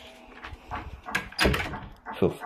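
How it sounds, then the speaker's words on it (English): A door shut in a Luigi video game, a short thudding close in the game audio, heard among excited voices of players talking over it. "Uh, no, I'm gonna shut the door."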